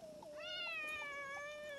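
A kitten gives one drawn-out, rising-and-falling meow, close and clear, with no talking over it.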